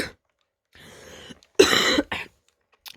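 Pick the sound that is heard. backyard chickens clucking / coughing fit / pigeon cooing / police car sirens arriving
coughing fit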